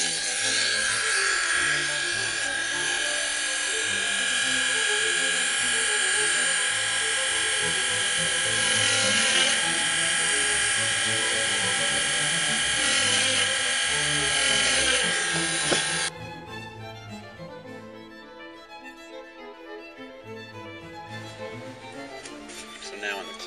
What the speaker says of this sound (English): I'm tapping the holes for putting in more of these pins.